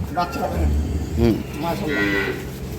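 A female dairy calf moos a few times nearby, low and drawn out, while a person talks over it on a dairy farm.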